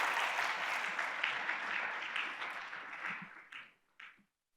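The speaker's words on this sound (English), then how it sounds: "please give a big round of applause to the Professor OHSUMI" Audience at the 15th HOPE Meeting applauds Dr. Yoshinori Ohsumi, a full, even round of clapping that tapers off, ending with a last few isolated claps before silence.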